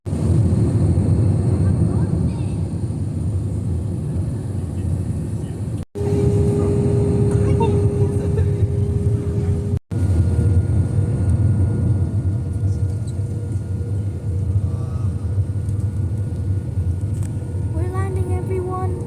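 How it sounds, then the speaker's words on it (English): Steady loud jet cabin roar with a deep low rumble fills a commercial airliner descending to land at Melbourne, with brief dropouts and faint chimes or clicks near the end. "We're landing everyone."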